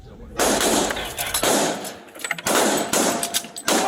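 Rapid bursts of gunshots crack out loud and close, several volleys in a few seconds, with short pauses between them, during a police shooting exchange with a suspect in San Antonio.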